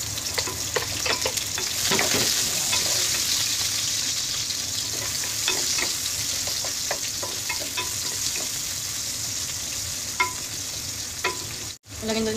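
Onion is stir-fried in a pan before chicken wings go in, giving a continuous close sizzle broken by repeated scraping and stirring clatter, with no one speaking.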